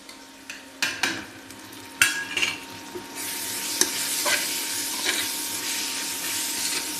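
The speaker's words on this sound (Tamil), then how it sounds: "இதுவுமே நல்லா பச்சை வாசம் போகிற வரைக்கும் நம்ம நல்லா ஃப்ரை பண்ணிக்கலாம்." Garam masala, chilli powder and biryani masala fry in a pan for chicken biryani: scattered utensil scrapes and clinks at first, then a steady close sizzling hiss with occasional stirring knocks, no speech.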